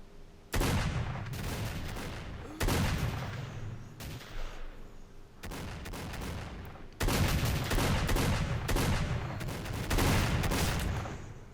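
Gunfire shooting through a wall in S.T.A.L.K.E.R., a series of heavy, loud bursts of fire separated by short gaps, each volley roaring for a second or two before cutting off abruptly.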